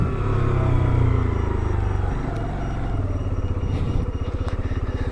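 A Keeway RKS 125 motorcycle rides along with a steady engine drone that dips and changes pitch as it shifts through gears, close and continuous with a faint rattle.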